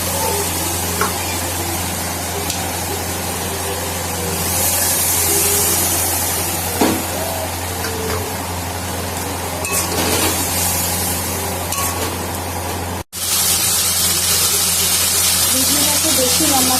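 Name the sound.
water added to frying spices, sizzling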